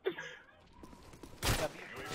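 Call of Duty MW3 gunfire comes in short bursts, including a loud volley near the end, among quieter game noise with a voice in the background.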